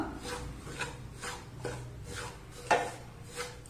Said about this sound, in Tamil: இப்போ இதிலே மீடியம் டு ஸ்லோ ஃப்ளேமில் வச்சுட்டு நல்லா வாசனை வர அளவுக்கு வறுத்து எடுத்துடலாம்.